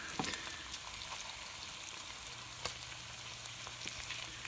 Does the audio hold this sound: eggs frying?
yes